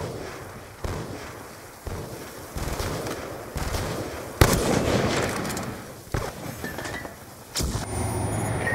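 A flashbang grenade goes off during a Call of Duty: Black Ops 2 multiplayer match. A sharp bang stands out amid a string of loud, close gunfire bursts and explosive cracks.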